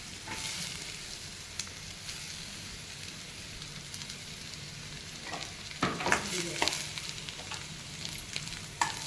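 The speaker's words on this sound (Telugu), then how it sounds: "ముల్లంగి ఎరుపు రంగు వచ్చే వరకు బాగా వేయించుకోవాలి." Chopped radish frying in a pan over a low flame, a steady close sizzle with soft stirring scrapes that grow busier toward the end; no voices.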